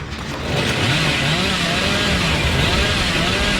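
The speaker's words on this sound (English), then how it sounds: "Stopping the chainsaw is nearly impossible." Chainsaw in the mobile video game Dead by Daylight Mobile, a loud continuous buzzing engine roar that runs steadily throughout with no pauses.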